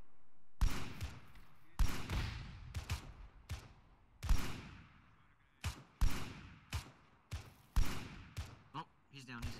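Gunfire rings out in a military video game, sharp echoing shots fired in irregular single and double bursts with long decaying tails, loud and close, while players talk over the radio between shots.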